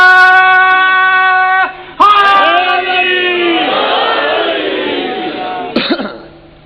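A large religious gathering shouts a slogan in unison, loud sustained chanted calls answered by a crowd roar, with a brief break and a sharp burst near the end.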